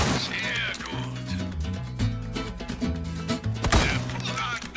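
Gunshots ring out at a shooting range in the Resident Evil 4 Remake video game, sharp reports mixed into busy game music and someone talking over them.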